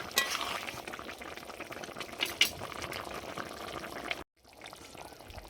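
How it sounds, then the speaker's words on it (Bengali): A potato and soya chunk curry with added water simmers and bubbles steadily in a pot, a continuous soft hiss with small pops, cutting off briefly near the end. "আমি তরকারিতে জল দিয়ে দিয়েছি একটু ফুটতে দেব"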